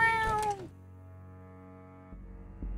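A single clear meow from a cat in the video game Ib, a short rising and falling cry at the start, followed by a quiet low hum.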